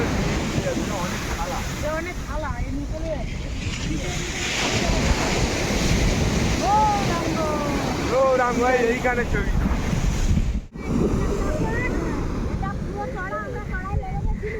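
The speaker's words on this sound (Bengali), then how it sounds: "আমরা একেবারে সমুদ্রের কিনারায় এসে পৌঁছেছি এখন" Sea waves break and wash steadily onto the shore at Pondicherry, a continuous roaring surf with gusts of wind buffeting the microphone, while voices talk over it throughout and the wash briefly drops out near the end.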